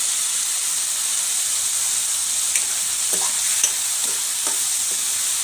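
Tomatoes and curry leaves frying in a pan for a tomato and ivy gourd chutney, a steady loud sizzle with hiss and a few light stirring scrapes, no voices.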